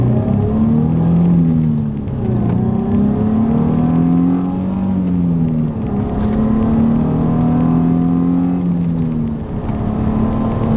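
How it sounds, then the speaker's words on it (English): A Nissan G35/350Z car accelerates hard at full throttle from inside the cabin, its loud engine note climbing through rising sweeps, dropping briefly at gear changes, over a heavy constant rumble. "I'm going to be doing a pull right now, how it feels going at full throttle"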